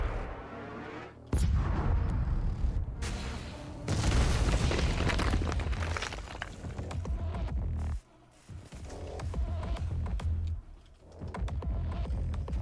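A massive cannon fires in DOOM Eternal, deep booming blasts and rumbling explosions rolling on over a throbbing low hum, loud and heavy with brief drops between the hits.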